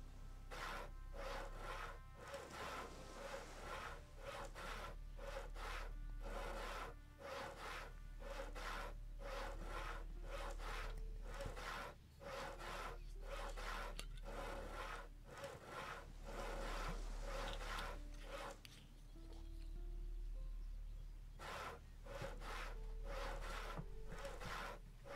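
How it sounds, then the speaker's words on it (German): Rhythmic wood sawing at a saw block in the Risen video game, a long run of evenly spaced rasping back-and-forth strokes, close and steady with a brief pause near the end. "Da können wir etwas sägen."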